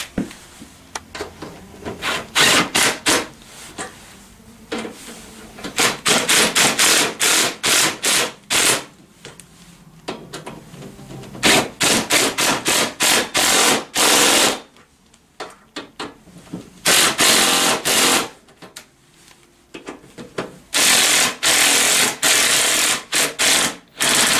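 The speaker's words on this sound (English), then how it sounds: "I'm going to use my drill gun" Repeated bursts of a power drill tightening bolts on a Tao Tao ATM50A scooter, whirring in short pulses, stopping and starting with brief pauses between, close by and loud.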